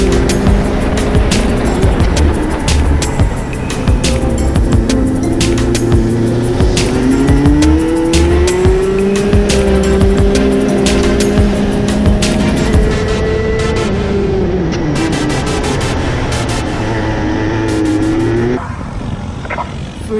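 A racing go-kart on practice laps in cold conditions, its engine buzzing loud and close for a long continuous run with rising and falling revs through the corners, tires chirping and squealing now and then. No one speaks.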